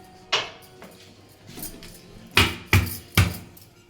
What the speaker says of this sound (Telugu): నెక్స్ట్ దీంట్లో కొంచెం అల్లం మనం చితక్కొట్టి వేసుకుందామండి